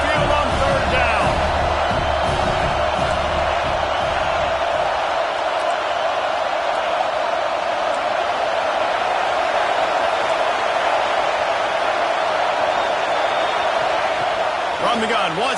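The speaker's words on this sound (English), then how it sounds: "The Tide crowd rolling noise down onto Saban Field on third down" A steady, dense roar from Alabama Crimson Tide fans in the stands at Saban Field during a college football game against Clemson, unbroken throughout, with a commentator speaking over it.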